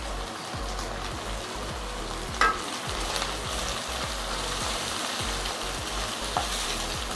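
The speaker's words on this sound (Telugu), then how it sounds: "ఇప్పుడు మనం పచ్చిమిరపకాయలు వేసుకుందాం." Green chillies frying in a pan with a steady crackling sizzle like rain on a surface, close and even, with a brief utensil tap partway through; no speech.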